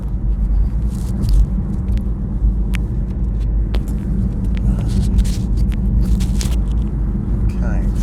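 A steady low road rumble fills the cabin of a moving BMW i3 electric car, constant and fairly loud, with occasional faint clicks and a voice speaking over it.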